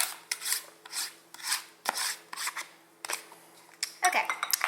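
Orange zest being rasped off the peel for a sugar hand scrub, as a series of close, rhythmic scraping strokes with small clicks between them.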